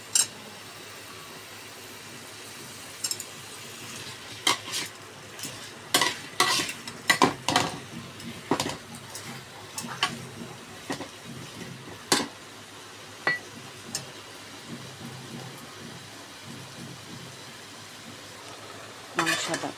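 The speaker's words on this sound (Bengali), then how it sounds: "আলুগুলোকে ভেজে নিচ্ছি ভালোভাবে নাড়িয়ে চাড়িয়ে।" Potatoes frying for beef curry in a pan, a low steady sizzle under repeated sharp metal scrapes and clanks from stirring that come in irregular clusters, close by with no talk.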